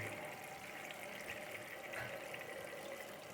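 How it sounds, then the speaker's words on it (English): Water is poured into a pot over beef bones, a steady, close hiss of running liquid that holds at an even level throughout with no pauses. "put a little bit of water there, just to be slightly cover it"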